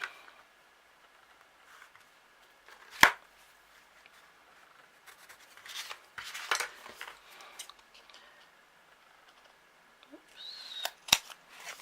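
Scissors cut through craft material at a desk-caddy craft table, with a few sharp, close snips and soft scattered rustling between them in an otherwise quiet room.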